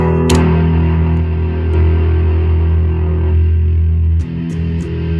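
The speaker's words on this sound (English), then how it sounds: "can get really doomy if you crank the bass like this" A cranked bass guitar runs through a Master Shredder Doom Beast distortion pedal, one loud sustained fuzzy drone that holds thick and gritty, then shifts and cuts off near the end, with a few faint clicks.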